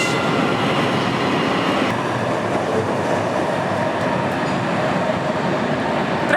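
A white-and-yellow Lower Silesian Railways local train rumbles past steadily with continuous rolling wheel noise and faint clatter, loud and close throughout.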